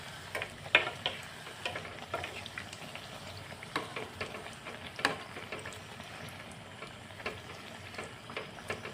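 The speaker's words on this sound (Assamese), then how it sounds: "তেল অলপ বেছিকৈ দিলোঁ আৰু তেলত দি আছোঁ পৰটাটো" Dhakai paratha fries and puffs in refined oil in a pan over a low gas flame, a faint, steady sizzle dotted with small ticks and pops, with no talking.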